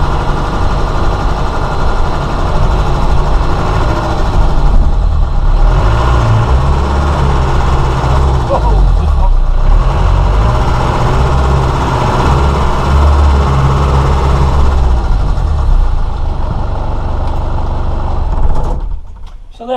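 A 1996 Land Rover Defender 110 engine idles steadily, a loud continuous low rumble with rough mechanical chatter that cuts out abruptly near the end.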